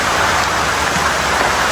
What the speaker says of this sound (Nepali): पानी पर्यो पानी हौ